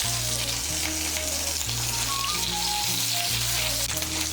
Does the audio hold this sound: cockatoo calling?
no